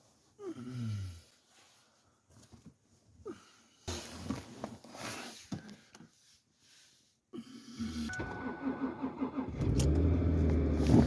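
A car engine cranks over with a few rough turns in below-freezing February cold by a lake, then catches and settles into a loud, steady idle close by.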